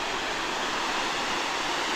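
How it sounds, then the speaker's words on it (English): Steady broadband roar of a waterfall in Saint Lucia, one of several small falls side by side, with a lot of water pouring down; the rushing wash is continuous and fairly close, with no voices. "Really beautiful waterfall too."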